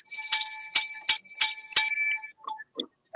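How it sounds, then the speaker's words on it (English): A novelty jingle bell billed as the world's loudest rings in about five loud, bright bursts of shaking, then dwindles to a few faint, scattered tinkles. "And the world's loudest jingle bell."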